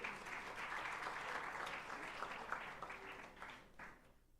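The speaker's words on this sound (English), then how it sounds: "A round of applause for her, please." An audience applauds the winner of a quiz competition at a book festival, a steady wash of many hands clapping at moderate volume that fades out near the end.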